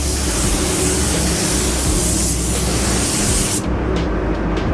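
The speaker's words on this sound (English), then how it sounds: "The inside the panels I always go pretty slow and spray it pretty wet." A continuous loud hiss of spray painting the insides of panels runs nearly unbroken, then cuts off briefly and resumes in short bursts near the end.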